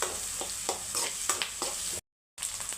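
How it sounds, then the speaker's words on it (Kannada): Onion frying with mustard seeds in a pan for village-style upma, a steady bright sizzle broken by repeated stirring scrapes, with a short silent gap near the end before the sizzling resumes. "ಈರುಳ್ಳಿ ನಿಮಿಷ ಇದು ಚೆನ್ನಾಗಿ ಫ್ರೈ ಮಾಡ್ಕೊತಾ ಇದ್ದೀನಿ."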